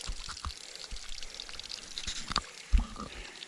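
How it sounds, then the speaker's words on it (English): Underground water leaking out of a stone wall at a bore on a walking route near a dam, heard as faint outdoor trickling and splashing with a few sharper drips and one louder splash near the end. "A lot of precious underground water busy leaking out of that bore."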